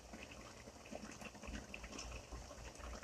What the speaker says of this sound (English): I'm gonna let this simmer for about 20 minutes